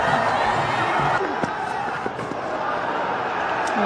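A cricket stadium crowd at a T20 World Cup match between the USA and Pakistan roars after back-to-back sixes, a broad sustained wall of cheering with commentary running over it.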